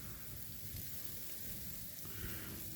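Freezing rain falling at night on wet concrete, a steady soft hiss of drops heard alone at a faint level, with no talking.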